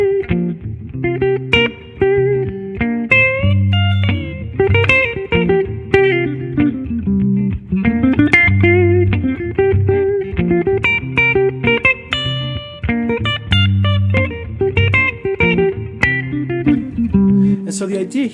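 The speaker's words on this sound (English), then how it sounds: "that's the sound of like pentatonic playing" Guitar phrasing built on the pentatonic scale, flowing melodic runs over a thick sustained low backing, loud and continuous with no talking.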